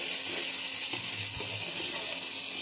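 Momo filling sizzles and fries in a pan while being stirred, a steady close hiss with soft scraping strokes partway through.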